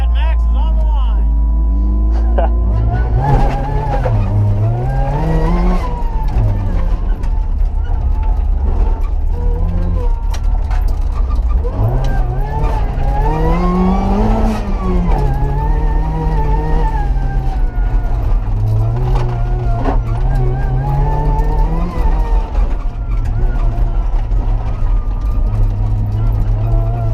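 Rallycross car racing around a dirt course, its loud engine droning and rising and falling in pitch as it accelerates and shifts through the run, with occasional voices over it.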